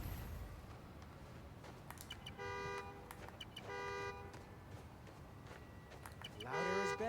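A car horn in Spider-Man: Miles Morales, set off from a key fob, honks in several separate bursts, each about a second long, fairly faint under the city ambience, with a louder honk at the end.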